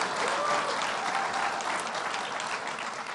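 Audience at Buffalo State College breaking into loud, dense applause, a continuous roar of clapping hands that carries on evenly throughout.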